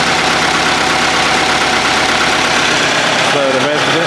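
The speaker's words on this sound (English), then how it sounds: "I've just got it out here this evening just to listen to the engine running." A Massey Ferguson 65 tractor's four-cylinder engine idles steadily up close, a continuous low rumble with a brief higher whine near the end.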